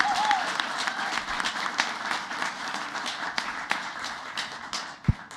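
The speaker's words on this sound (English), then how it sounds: "One more round of applause for Prairie Point." Audience applause fills a school board of education meeting as administrators are called up, steady dense clapping throughout with a single sharp thump near the end.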